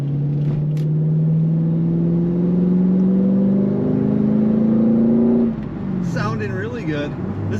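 Red 1997 Chevrolet Corvette coupe with automatic transmission idling and revving steadily up close, a low even engine drone that rises slightly before cutting off, followed by a few moments of brief talk.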